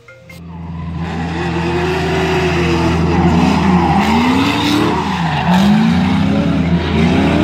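A Mazda Miata's tires squeal loudly as the car skids, the screech wavering up and down in pitch over a steady engine drone, close and sustained for several seconds.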